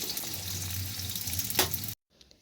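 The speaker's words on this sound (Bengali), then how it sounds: "পেঁয়াজটা একটু ভাজা ভাজা হবে, আর এই দেখো কাঁঠালটা আর একটু হবেই" Onion and jackfruit fry in a pan, a steady, close hiss and sizzle with a brief sharper crackle before the sound cuts off abruptly near the end.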